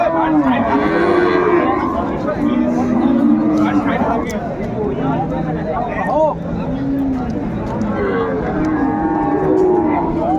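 Sahiwal cows and calves at a busy cattle market low and moo repeatedly at close range, mixed with constant chatter and crowd babble.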